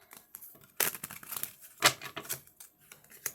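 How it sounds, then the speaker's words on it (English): A deck of tarot cards is shuffled up close, giving crisp papery riffles and flicks in quick irregular bursts, with one sharper riffle partway through and no voices. "One more shuffle."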